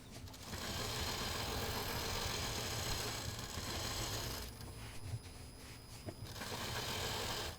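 A sewing machine stitches fabric for a quilted portrait, a close, steady motor whir with rapid needle clatter that briefly slows and stutters before running on again.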